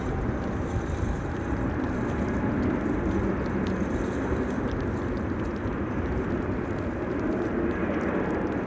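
Airliner taking off on a windy day at Amsterdam Schiphol Airport: steady, broad jet engine roar heard from a distance, unbroken for several seconds and mixed with wind rumble.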